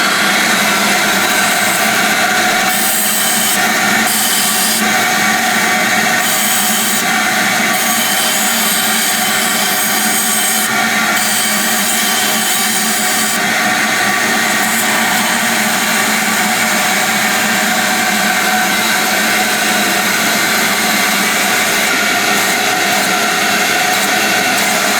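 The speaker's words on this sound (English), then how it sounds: "Turn on the vacuum." A loud, constant roar of a vacuum running nonstop while walnut blasting engine intake valves, with a harsh blasting hiss layered over it and no pauses.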